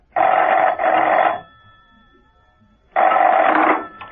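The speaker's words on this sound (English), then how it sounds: "Later that morning, Steed rang Mrs. Peel at her apartment." An old-style telephone bell rings in an apartment, two loud close bursts, the first double, then a pause and a third ring, clear and alone with no voices.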